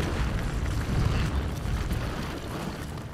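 Bomb blast in Resident Evil Village: a dense, roaring explosion with a deep low rumble that stays loud and sustained for the whole stretch, with no voices over it.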